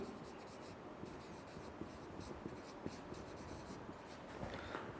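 Chalk or marker strokes on a classroom board during a chemistry lecture, a steady run of short scratchy taps and scrapes across the whole stretch, fairly close and clear with no voice over them.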